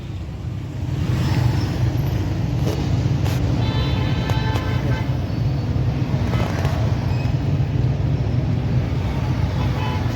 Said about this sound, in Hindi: हम ट्रैफिक सिग्नल पे रुक गए हैं